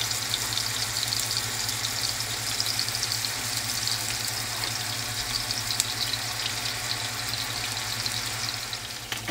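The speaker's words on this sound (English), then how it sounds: "we're gonna brown all of them good on both sides" Venison steaks browning in a pot give off a steady, even sizzle and crackle of frying that holds at a constant level. A low hum runs beneath it, and no voices are heard.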